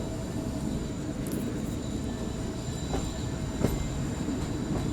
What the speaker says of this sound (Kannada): ಟ್ರೈನ್ ಟರ್ನಿಂಗ್ ನೋಡಿ ಯಾವ ರೀತಿ ತಗೊಂತಿದೆ